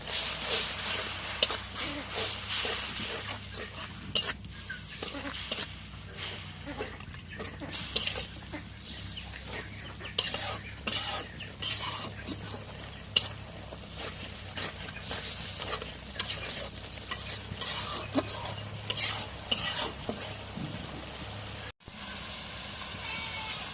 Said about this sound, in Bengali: এখন সব মশলা দেওয়া হয়ে গেছে, একটু নাড়া দিয়ে দিই।